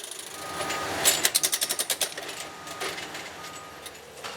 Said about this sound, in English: After welding, a spiker immediately secures the track.